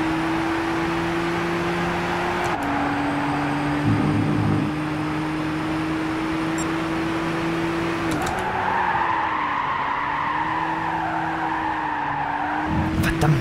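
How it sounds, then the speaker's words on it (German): A race car in Gran Turismo 6 slides through a corner with sustained tire squeal over a steady engine drone, the squeal pitch wavering and rising as the car skids, loud and close. "Das ist echt gar nicht mal einfach, die erste Kurve zu fahren, weil der Wagen so übelst viel rutscht."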